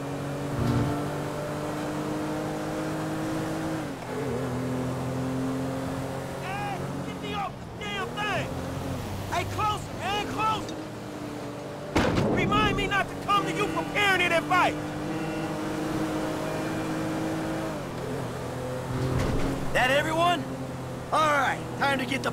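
Engine of a stolen yacht in Grand Theft Auto 5, a steady droning motor with harmonic tones that rises and falls in pitch, plus sloshing water and brief revving surges.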